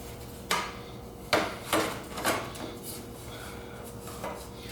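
The lower fairing panel of an MV Agusta F3 800 motorcycle is set back in place with Allen bolts, producing a handful of sharp, close knocks and rubbing clunks spaced unevenly over a few seconds.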